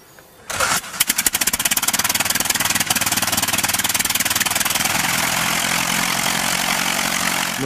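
A Wright Flyer replica's engine starts and runs up to full power, driving its propellers in a rapid, loud, steady rhythmic chatter with a dense roar that continues to the end.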